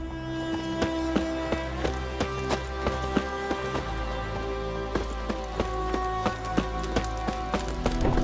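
Horse hooves galloping in The Witcher 3, a quick rhythmic clip-clop of hoofbeats under steady game music and ambience, moderately loud and continuous.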